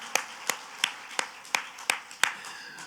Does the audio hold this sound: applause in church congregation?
yes